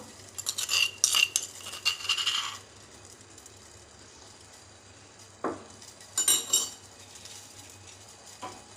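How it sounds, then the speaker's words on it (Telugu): Crushed cardamom and ginger tipped into water in a pot for spiced tea make close, bright clinks and scraping rattles, a busy burst at the start and another after a short pause, with no voices. "మనం దంచి పెట్టుకున్న యాలక్కాయలు అల్లం ఇందులో వేసేద్దామండి నీళ్ళలో"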